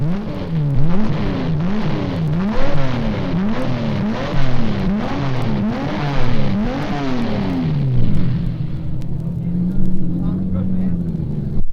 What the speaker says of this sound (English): A mechanic fires up one of the Ferraris.